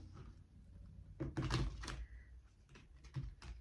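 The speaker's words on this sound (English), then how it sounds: "So let's shuffle one more time and get it going" Soft papery riffling and light taps of tarot cards being shuffled close by, in a couple of brief bursts against a quiet room.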